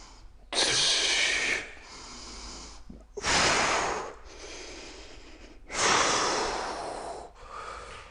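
Deep, loud breaths during a foot rehab exercise: three long, airy inhale-exhale cycles drawn slowly and close to the listener, each one swelling and fading with quiet gaps in between.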